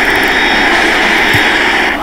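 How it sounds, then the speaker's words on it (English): Loud, steady whine and roar of the jet engines on a radio-controlled F-117 Nighthawk model, sustained at close range with no voices over it. "Fire up the engines a little bit more."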